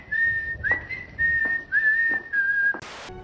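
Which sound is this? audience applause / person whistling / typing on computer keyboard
person whistling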